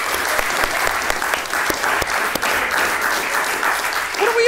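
A live crowd at a gaming show claps steadily, a thick round of applause with sharp individual claps popping out, and a voice briefly speaking near the end.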